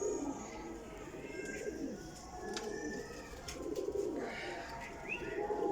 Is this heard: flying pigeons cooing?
yes